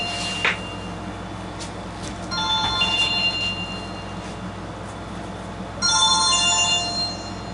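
A phone rings indoors in two separate bursts of bright electronic tones, moderately loud, with a few faint knocks in between and no talk.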